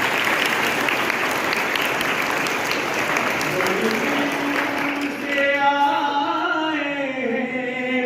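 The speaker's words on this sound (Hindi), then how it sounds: "बहुत ज्यादा बेफिक्र होकर के थोड़ी तालियां मार दो इनके लिए।" An audience claps loudly to welcome Rajasthan High Court social secretary advocate Shilpa Sharma. The steady roar of hands fades midway as tonal music with singing rises and carries on alone.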